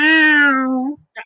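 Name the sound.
performer imitating a cat meowing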